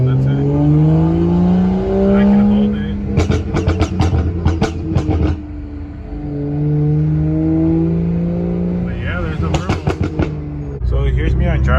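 A BMW F10 with a burble exhaust tune idles and revs, letting out bursts of rapid crackling pops on deceleration, loud and close, with a second run of pops near the end.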